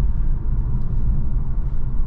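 Inside a 2023 Infiniti Q50 Sensory AWD on a bumpy back road, a steady low road and engine rumble fills the cabin, continuous and fairly loud, with no talking.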